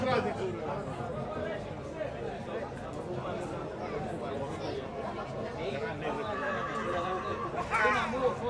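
Romanian draft horse neighing at a horse pulling contest in Negrești-Oaș, heard among a chattering outdoor crowd, with a loud announcer talking over the scene throughout.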